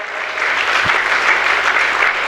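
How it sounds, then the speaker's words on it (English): Audience applause for Chinmay at a tech startup conference in Pune, a steady, loud, continuous wash of many hands clapping throughout. "I want all of you to give a claps to him."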